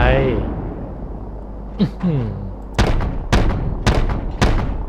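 An AC-130 gunship's cannon fires in a video game. After a voice, four heavy, booming shots land in slow, evenly spaced succession, each loud and sharp.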